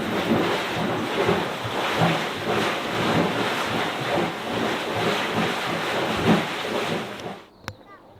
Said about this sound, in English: So this crater is making this awesome boiling noise